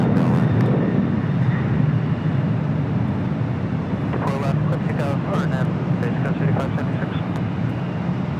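A Boeing 767 airliner takes off from LAX, a broad, steady low jet roar heard from a distance, with a voice talking over it partway through.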